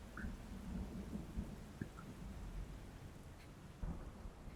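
Rain and rolling thunder in the video game Neva: a steady, dense hiss of rainfall with low thunder rumbling underneath throughout, faint and continuous with no voices.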